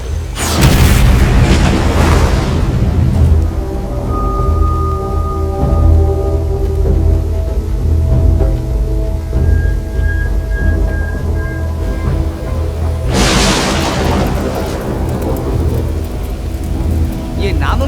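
A C4 bomb blast in a dubbed horror movie erupts as a loud, booming explosion, followed by a long low rumble and a second heavy blast burst near the end.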